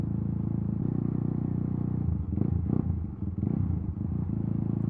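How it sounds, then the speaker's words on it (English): A car engine idles with a low rumble, then revs up a few times in short bursts before settling back to idle. "I'm just revving every now and then."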